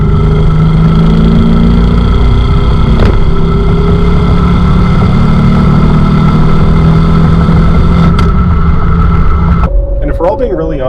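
An Audi S4 fitted with a Fast Intentions exhaust system drones loudly and steadily from close by, a low engine rumble with two sharp transient bumps along the way and a shift in tone near the end.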